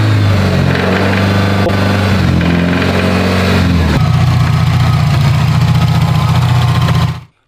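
A car's horizontally opposed boxer engine runs loud and close with an abnormal, rough noise, a steady idle-like drone that shifts lower and heavier midway through before cutting off abruptly.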